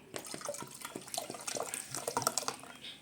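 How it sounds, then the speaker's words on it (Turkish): Soda water poured into a börek filling of milk and eggs: a close, bubbly liquid splash with fizzing and small gurgles over about three seconds, with no talking. "Bir tane de soda dökeceğim."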